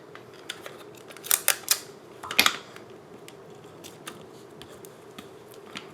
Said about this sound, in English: now I'm going to bring in a piece of tape